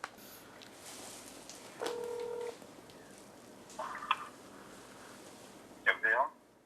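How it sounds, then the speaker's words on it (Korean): Telephone keypad dialing while placing a call, with a steady tone followed by a few short, close electronic button beeps, heard alone. "한번 전화 한번 걸어보도록 하겠습니다"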